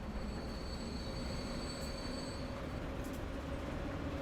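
A freight train carrying crude oil in Transport Fever 2, rolling by steadily with a continuous rumble and thin, sustained high-pitched wheel squeals. No speech is heard.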